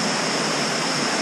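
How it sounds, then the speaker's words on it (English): Souter Falls, a three-tier waterfall, rushes in a loud, unbroken white-noise roar heard close by, steady throughout with no voices over it. "It's a three-tier waterfall."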